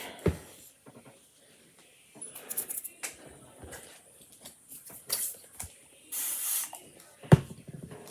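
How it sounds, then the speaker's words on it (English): Several short hissing bursts of a spray bottle misting water onto chalk transfers, separated by quiet pauses, with faint handling noises in between. "Just spray it with some water."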